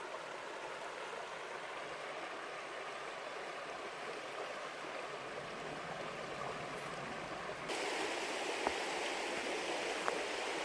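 A fast-flowing stream feeding a deep swimming pool in Cornwall makes a soft, steady distant rush of water, slightly louder and brighter toward the end.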